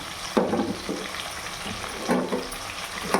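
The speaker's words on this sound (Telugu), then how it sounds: "ఈ మునక్కాడలు కూడా ఆయిల్లో బాగా ఫ్రై చేస్తాను." Drumstick pieces (moringa pods) frying in hot oil, a steady close sizzle with louder bursts of stirring and scraping at a few points, no voices.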